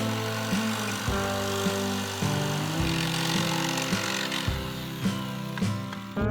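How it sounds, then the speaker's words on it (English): A jigsaw cuts out small squares drawn on wooden panels, a steady buzzing drone that stops and restarts several times as each cut begins and ends, close and loud with no talk. "proceed to cut them out with a jigsaw"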